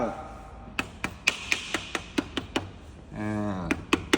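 A piston is tapped into a cylinder of a Kubota diesel engine, giving a steady run of about a dozen sharp metallic taps, close and distinct, with a voice briefly talking over them.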